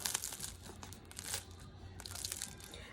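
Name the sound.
crackling crust of a freshly baked French baguette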